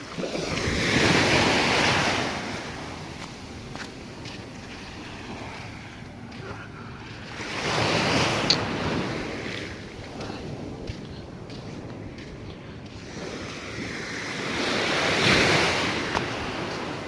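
Sea waves rolling onto the shore in three broad surges, each swelling into a loud hissing wash and then easing back, with wind buffeting the microphone between them.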